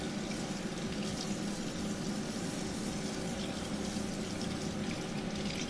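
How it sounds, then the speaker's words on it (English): Water runs steadily from a tap into a sink, a continuous soft splashing hiss with no breaks and no talking. "Just running water down through there."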